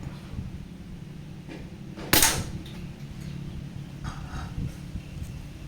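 A single sharp, close air rifle shot snaps out with a brief crack, then only quiet room noise remains.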